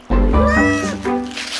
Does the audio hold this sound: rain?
no